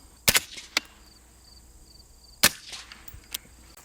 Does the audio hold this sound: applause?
no